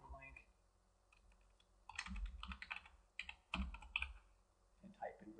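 Typing on a computer keyboard while building linked HTML web pages, a run of quick close key clicks and taps in uneven bursts, with someone speaking over parts of it.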